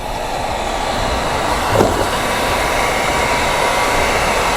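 A heat gun on its low setting warms chrome delete film on a Lexus GX front trim, giving off a steady loud blowing hiss with a brief swell midway.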